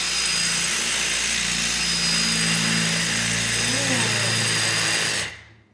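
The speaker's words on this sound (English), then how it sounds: "So now that we've drilled the hole" A power drill whines steadily at high speed for several seconds, loud and close, then winds down and stops.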